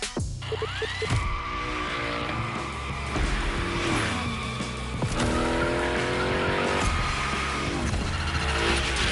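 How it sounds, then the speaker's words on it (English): Hoonicorn sliding through a gymkhana course in The Crew Motorfest, its engine roaring loud and close while tires squeal and skid in repeated sweeping slides across the whole stretch. "Let's see how you handled your first slides with the Hoonicorn"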